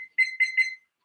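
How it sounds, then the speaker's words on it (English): Kitchen oven timer beeping in three short, close, evenly spaced bursts, each a bright electronic tone, then stopping. "Let's get that on the timer."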